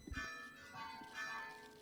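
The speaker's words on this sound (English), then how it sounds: "I can mute if you guys don't want to hear the bells" Church bells ring on at a moderate distance, their tones swelling and fading in slow waves across the short stretch with no other sound on top.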